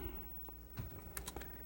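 Spare keyboard for a Commodore C64 being handled, giving a few faint clicks and plastic taps scattered over about two seconds, quiet and close, with no voices.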